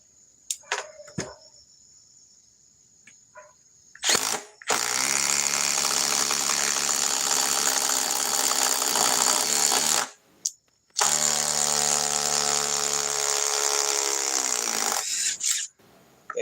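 A power drill drives into a hole drilled earlier, in two long, loud, steady whirring runs that strain and drop in pitch, broken by short pauses, with a few clicks and knocks beforehand.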